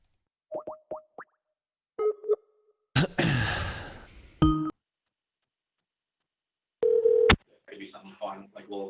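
A phone is dialed to call someone back, giving a few short close touch-tone beeps, then a breathy sigh, more tones and a brief ring-like buzz. Voices are heard at the end.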